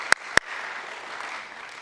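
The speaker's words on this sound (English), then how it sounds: "So, round of applause for them." Brief, fairly faint applause at an annual meeting honoring retiring board members, opening with two sharp knocks and settling into soft, scattered clapping from a small audience.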